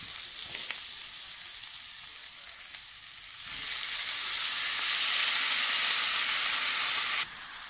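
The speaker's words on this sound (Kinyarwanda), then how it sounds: "Umuceri rero ngiye kuwusukamo nawo." Rice poured into a hot pan of sizzling meat for pilau sets off a loud, steady frying hiss that swells midway and holds, then drops back to a softer sizzle near the end.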